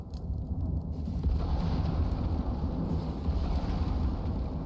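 Lightning storm in Icarus, a deep continuous rumble of thunder mixed with heavy rain noise that swells early and stays loud and steady to the end, with no speech.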